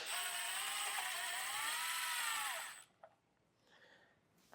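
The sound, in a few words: Torx bit removing screws from Jeep tail light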